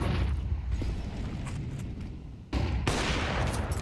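Rifle fire during a Counter-Strike match, a dense rattle of shots and noisy bursts with a brief drop before louder gunfire resumes, no talking.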